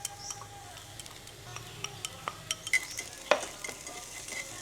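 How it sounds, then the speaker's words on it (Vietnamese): Shiitake mushrooms are stir-fried with shallots in oil in a pan, giving a soft, low sizzle with scattered scraping and clicking stir noises, close but fairly quiet, with no talking. "Hành đã bắt đầu vàng và thơm rồi thì mình sẽ cho cái phần nấm đông cô vào."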